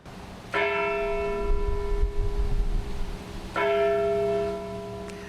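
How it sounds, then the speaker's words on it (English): A large church bell at St. Mary's Winfield in Woodside strikes twice, each deep resonant toll ringing out and slowly fading, with low background rumble between strikes. "Every morning when the church bells ring at St. Mary's Winfield in Woodside,"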